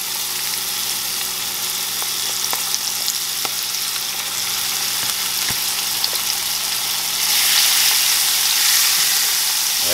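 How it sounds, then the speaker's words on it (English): Onions sautéing in a pan of grease for smothered rabbit, a steady, moderate sizzle and hiss with a few faint clicks, swelling slightly louder near the end, no talk. "So I'm going to add my onions so they can saute first."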